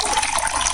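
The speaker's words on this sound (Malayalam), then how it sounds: "വെള്ളം ഒഴിച്ചു കുറച്ച്" Water splashes steadily into a hot pan being heated for noodles, a brief, close, hissing rush of liquid with no voices.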